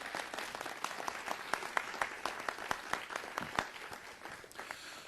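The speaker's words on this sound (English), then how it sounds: "Give them a nice round of applause." Audience applause at a city council meeting, a steady room-filling patter of many hands with a few sharper individual claps standing out, moderately loud and continuous for the whole stretch.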